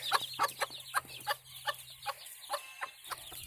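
Frizzle hens clucking nearby in a rhythmic series of short, sharp calls, about a dozen evenly spaced clucks over a low, steady background hum.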